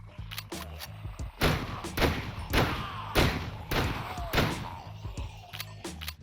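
Rapid gunfire from a gun mod in Minecraft, a video game: sharp, loud shots in bursts, some close together and some spaced about a second apart, with thuds between them.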